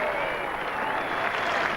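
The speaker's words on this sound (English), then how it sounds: "the crowd is now animated" Cricket crowd at an Ashes Test applauding a solid shot, a continuous wash of distant clapping at moderate level.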